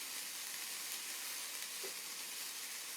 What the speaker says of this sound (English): Y'all hear that sizzle? That snap, crackle, and pop?